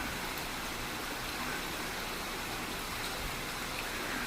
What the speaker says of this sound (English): They love them waterfalls, don't they?